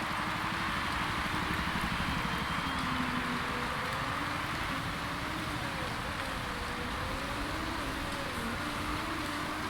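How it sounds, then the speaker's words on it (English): Constant dense rain hiss in a racing video game, with a car engine droning and shifting pitch underneath, loud and unbroken throughout. "now I get rain back for real"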